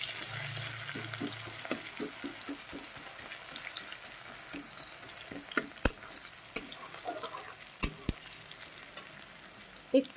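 Onion frying in a pan for a spicy boal fish curry, a quiet steady sizzle broken by repeated scraping stirs and a few sharp clinks of utensil on metal, close by with no speech.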